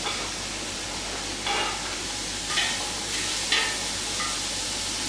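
Carrots and onions sauté in a pan with a steady sizzle, broken by a few brief stirring scrapes.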